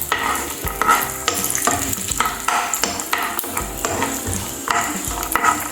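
Peanuts and cashews fry in a pan with a busy, close sizzle, while a spoon scrapes and clatters in a repeated stirring rhythm. No one speaks.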